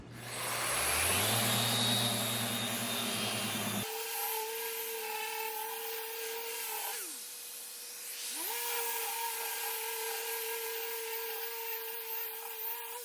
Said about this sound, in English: Let's go ahead and sand this thing.